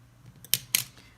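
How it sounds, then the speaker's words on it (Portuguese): Two quick crisp snips of scissors cutting crochet yarn, close and clear against a quiet background, spaced about a quarter second apart. "Agora, nós vamos cortar o nosso fio."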